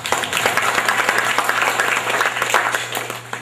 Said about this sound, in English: Please give them a round of applause for their accomplishment